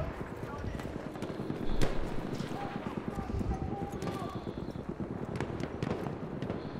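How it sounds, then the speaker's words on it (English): Horse hooves clip-clop in a steady trotting rhythm in Battlefield 1's beta multiplayer, close and continuous over rumbling battlefield ambience, with a voice speaking over them. "There's a horse here"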